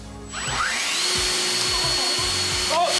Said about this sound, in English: Or this fan.